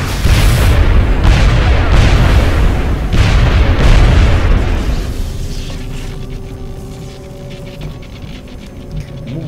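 In the XCOM: Enemy Unknown video game, loud weapon fire crackles in several bursts, then an explosion booms and rumbles away into quieter mechanical ambience, all without talking.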